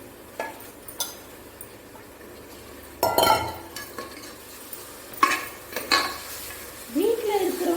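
Chicken and mutton fry with ginger and garlic in a pan, a steady sizzle broken by repeated spoon scrapes and metallic clinks against the pot, with a few louder stirring bursts.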